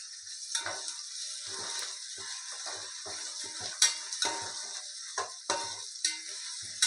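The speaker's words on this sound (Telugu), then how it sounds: "మనం అల్లం వెల్లుల్లి పేస్ట్ని కూడా ఆ నూనెలోకి వేసుకోవాలి కొంత" Ginger garlic paste sizzles in hot oil in a village-style kitchen, with a soft steady frying hiss broken by repeated sharp clinks and scrapes of a metal utensil stirring the pan.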